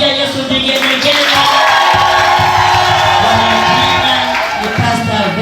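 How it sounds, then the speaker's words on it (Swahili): Wedding guests at a Christian celebration raise loud, continuous ululation and cheering. The shrill trills carry over a noisy, crowded room for several seconds. "Kama wanapendeza, pigia Yesu vigelegele."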